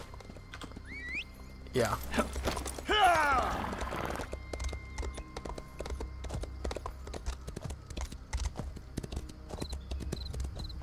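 A horse's hooves clip-clop at a steady galloping pace in the Elder Scrolls Online video game, with a whinny early on, while someone speaks briefly over the rhythmic hoofbeats.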